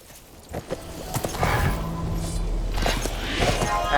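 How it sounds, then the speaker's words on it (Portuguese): Horse hooves clip-clop in a steady walking rhythm as a character rides a mounted horse in the video game Sacred 2 Remaster, mixed with constant in-game ambience and music. "Ó, montei no cavalo."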